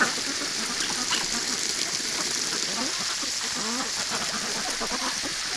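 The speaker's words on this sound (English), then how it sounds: "they love to be sprayed the most when it comes to the garden hose" A garden hose sprays water over Rouen ducks, producing a steady, hissing splash throughout, with faint duck calls and a voice in the background.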